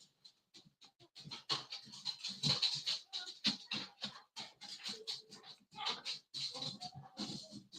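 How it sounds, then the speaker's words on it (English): Dogs bark in short, sharp bursts and whimper between them, in an irregular, excitable run of yaps and whines at moderate distance indoors. "dogs are going nuts as seniors start to show up"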